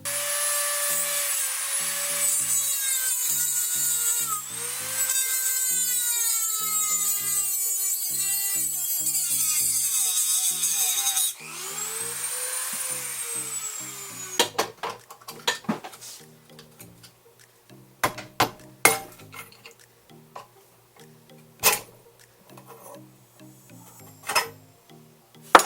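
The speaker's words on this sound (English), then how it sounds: "we need to cut this piece off. So I'm going to try it with the Dremel." A Dremel rotary tool cuts a piece off a Kawasaki KZ650 motorcycle during assembly, with a loud, continuous high-pitched whine that rises and falls for about fourteen seconds, then a string of scattered sharp clicks and knocks.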